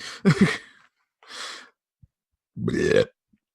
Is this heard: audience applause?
no